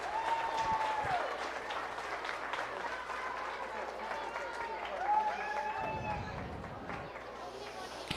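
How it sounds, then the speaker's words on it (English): Audience applause at the Howard County Fair junior showmanship contest, a steady sustained round of clapping from a crowd with voices and cheering mixed in throughout. "Big round of applause for Howard County Fair Association, please."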